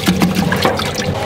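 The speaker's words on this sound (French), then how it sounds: "Petit nettoyage de la fourche dans la fontaine, regardez." Water splashing and trickling in a parts-washer fountain as a scooter's nickel fork legs are cleaned, a steady close wash of liquid lasting about a second with no talking.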